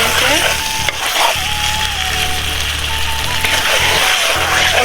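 Chicken meat for a Bangladeshi curry with small potatoes sizzles loudly in a pan, a steady frying hiss with occasional stirring scrapes and no talking.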